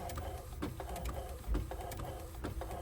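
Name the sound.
Epson ET-8850 printer printing a page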